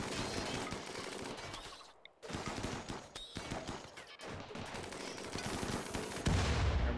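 Turrets fire during a fight in the RimWorld colony game, rapid bursts of gunfire in dense rattling volleys with short pauses, loud and continuous with no talking.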